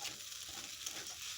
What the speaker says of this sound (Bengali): এবার আর একটু ভেজে নিয়ে নেব